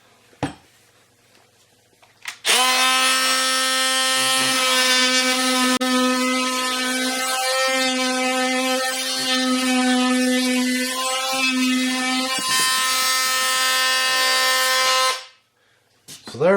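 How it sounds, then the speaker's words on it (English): An oscillating multi-tool cuts into drywall for a patch, a loud, steady, buzzing whine with strong harmonics lasting about thirteen seconds, with a few faint knocks before it starts. "Got the oscillating tool."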